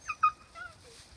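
Seven-and-a-half-week-old puppies being weaned whimper and yip in a few short, high, faint cries close by, with a quieter whine trailing off, on a windy afternoon.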